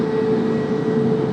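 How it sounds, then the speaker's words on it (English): A Korean Air Boeing Dreamliner arriving at Tokyo Haneda, a steady loud jet engine rumble with a constant tonal whine, close by and continuous with no talk. "Look at this Korean Dreamliner. Just arriving from Gippo."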